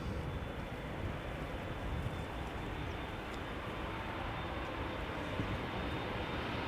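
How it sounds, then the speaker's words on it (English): Embraer 175 airliner taking off from Schiphol's Polderbaan runway, a steady broadband jet roar holding at constant loudness throughout, with no voices over it. "Embraer 175 going to Linköping."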